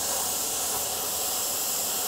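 An airbrush sprays gray paint over a bullet hole template in a steady, soft hiss that runs unbroken from start to finish, close by and fairly quiet.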